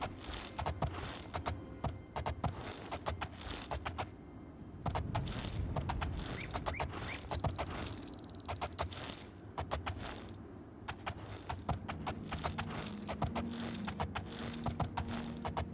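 A horse's hooves clatter in Oblivion as it climbs a mountain slope, quick irregular clip-clop strikes repeating steadily throughout, fairly quiet and close, with no talking.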